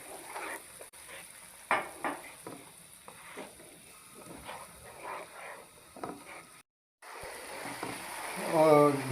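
Ginger and garlic frying in a pot with tomatoes added, a soft steady sizzle with scattered stirring clinks and scrapes, a brief pause near the end, and a faint voice talking in the background.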